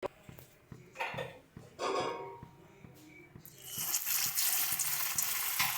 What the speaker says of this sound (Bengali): এবার আমরা কোফতাগুলো দিয়ে ভেজে নেব